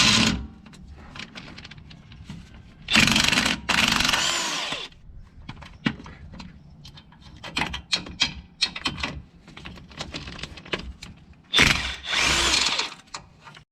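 An impact wrench works loose the lower half-inch bolt of a shock absorber on a Ford Ranger during a suspension lift, with two loud, dense bursts of hammering plus a third near the end, and quieter clanks and tool handling in between.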